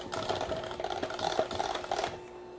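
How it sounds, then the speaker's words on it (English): Electric mixer whirring steadily as it beats lemon curd in a kitchen, a continuous close motor buzz lasting about two seconds before cutting off. "Put the mixer on and just get it all"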